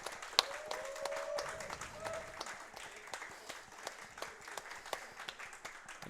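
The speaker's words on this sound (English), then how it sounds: "can we have a big round of applause to the event crew?" Applause for the event crew from a modest crowd at a LAN gaming event, scattered, fairly faint clapping with a brief whistle-like tone early on, fading toward the end.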